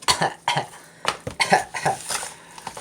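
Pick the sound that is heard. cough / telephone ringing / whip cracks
cough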